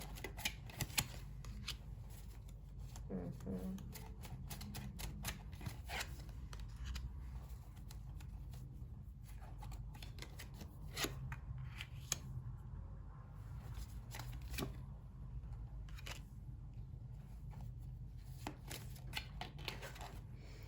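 Oracle cards are shuffled in a long run of soft, rapid papery riffles and flicks, faint and close, with no talk over them.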